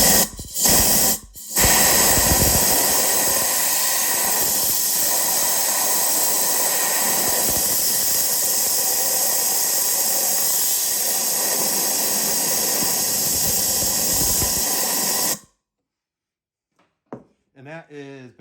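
Air blown into a removed Ford 6.0 diesel turbocharger, spinning its turbine, gives a steady loud hissing, rushing whoosh that runs continuously for about fifteen seconds after two brief bursts, then stops abruptly into near silence.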